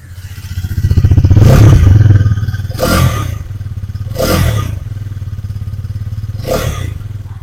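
A Hero Karizma XMR 210 sports motorcycle idles up close with a steady engine thrum, broken by three sharp throttle blips that rise and fall, the first swelling into a longer rev.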